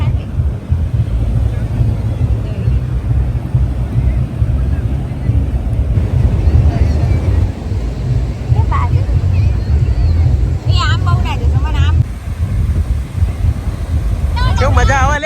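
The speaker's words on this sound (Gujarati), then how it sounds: "ઠંડી લાગે પવન એટલો બધો" Strong, cold wind blows across a Goa beach beside the sea, buffeting the microphone with a loud, continuous low rumble, while voices break in briefly near the end.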